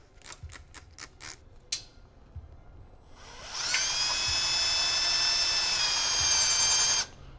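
A few light clicks and taps, then a high-pitched power drill stirring sparkling wine in a Sanke keg whines steadily for several seconds before cutting off abruptly.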